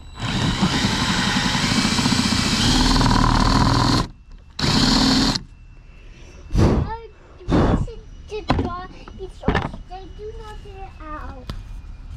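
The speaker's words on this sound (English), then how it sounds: "And we're gonna countersink this, Theo." A power drill countersinks a hole in a Crescent Shoalie kayak for a Motorguide quick-release bracket, whirring loudly in two bursts, a long one then a short one, before quieter clicks and handling noises follow.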